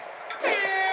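A horn honks in the video game Splatoon Raiders, a loud harmonic blast that swells in about halfway through the second and holds steady to the end over bright game sound.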